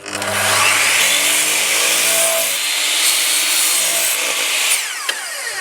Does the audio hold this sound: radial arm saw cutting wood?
yes